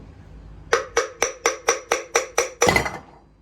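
Metal tool tapping on a DL501 clutch basket on an Audi S4/S5 3.0T transmission to work it loose, about nine evenly spaced sharp knocks, with a final quick double hit, close and alone.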